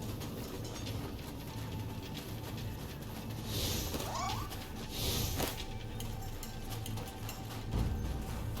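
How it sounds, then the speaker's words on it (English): A cat gives a brief, faint meow midway through, half buried under a steady background hum. "Cat."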